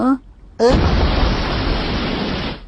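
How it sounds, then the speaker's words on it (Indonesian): An explosion in an animated Doraemon movie bursts in suddenly after a short spoken line, then roars on as a loud, sustained broadband rumble for about two seconds. "Ada ledakan."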